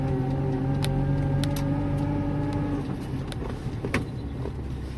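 A 1965 Seat 1500 with four drum brakes drives in third gear, its engine a steady hum under road noise, with a few brief clicks and knocks from inside the cabin.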